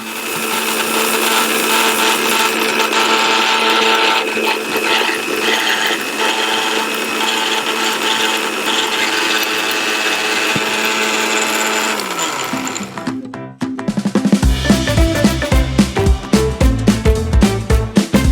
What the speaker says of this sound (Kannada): ಇದೆರಡು ಹಾಕಿ ಫೈನ್ ಪೌಡರ್ ಆಗಿ ನಾವು ಮಿಕ್ಸಿ ಮಾಡ್ಕೊಳ್ಳೋಣ